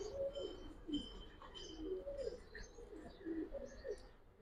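Silver highflyer pigeons coo softly in repeated low, throaty phrases, a few calls overlapping at close range, with faint chirps in the background.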